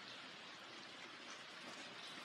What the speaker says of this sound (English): it's currently raining out right now